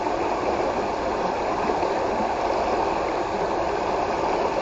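Fast-flowing river water on the Semenyih river, a steady broadband rushing roar that holds constant and loud throughout with no pauses or voices.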